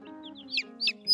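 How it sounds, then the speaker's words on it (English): A broody hen clucks softly on a farm, giving a few short, fairly close murmured clucks over about a second and rising at the end, with no voices. "Broody Hen."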